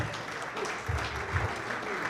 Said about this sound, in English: Give them guys a round of applause.